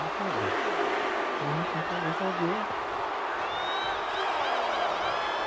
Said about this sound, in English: And Bayley's firing up the crowd here